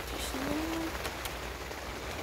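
Rain patters steadily on a tent during a fierce storm, a soft continuous hiss with occasional louder drops close by, while people talk quietly inside.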